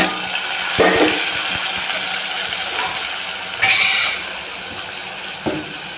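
Tomato pieces tossed into a pan of softened onions and curry leaves for dry fish pulusu, with a steady low sizzle broken by a few brief clatters and stirring scrapes, near and alone.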